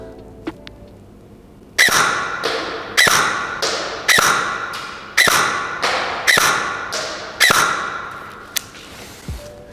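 An airsoft rifle fires five spaced shots at a target, each a sharp, loud crack with a short ringing tail, in a steady rhythm, plus a faint tap before the first and a low thud at the end.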